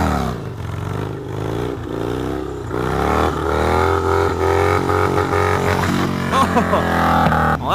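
A Harley-Davidson Dyna motorcycle without working rear brakes revs hard through a circle burnout, its engine rising and falling in pitch with loud throttle blips and some clattering, close and unbroken across the stretch.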